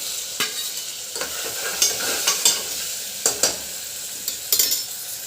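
Tomatoes, onions and spices for rajma biryani sizzle steadily in a pan while a utensil stirs them, giving loud, repeated scraping strokes over the constant frying hiss.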